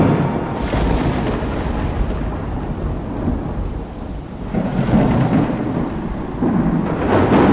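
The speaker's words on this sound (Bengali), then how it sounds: "খুব জোরে, খুব জোরে বাজ পড়ছে তো জানি।" Loud, rolling thunder rumbles on and off over steady heavy rain, with deep booms swelling and fading throughout.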